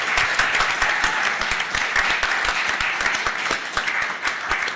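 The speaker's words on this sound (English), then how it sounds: "Can we have another round of applause, please, from the audience?" Audience applause after a student union election debate for Union Affairs Officer candidates, loud sustained clapping from a room of people with many distinct hand claps throughout.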